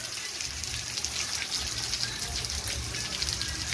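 Rainwater runs through a flooded street in Amaniutuba, a continuous rushing, splashing gush of water that stays fairly loud and steady throughout.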